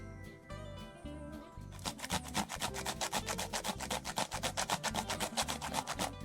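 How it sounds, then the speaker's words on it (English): One large cucumber being grated on the shredding side of a grater, starting with a few slower strokes and then settling into a fast, even rhythm of close, rasping rubs, with no voices. "So I am done grating my cucumber"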